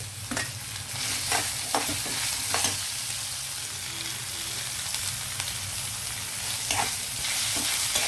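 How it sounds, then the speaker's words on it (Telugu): Potato and carrot pieces fry in a pan for a mixed vegetable dish, a loud continuous sizzle broken by several clattering stirs of a spoon against the pan. "ఓకే ఇప్పుడు పొటాటో క్యారెట్ ఈ రెండు వేస్తానండి"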